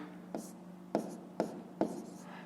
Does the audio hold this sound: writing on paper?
yes